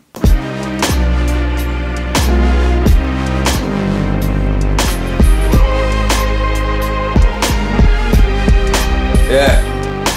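Hip hop beat programmed and played live on a Maschine MK3, loud punchy kicks and snappy hits over deep sustained bass and layered melodic tones, a steady looping groove heard close with no talk.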